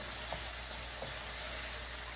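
Bitter gourd and potato fry over high heat in a pan, giving a steady, close, broadband sizzle throughout with a couple of soft stirring touches and no voices.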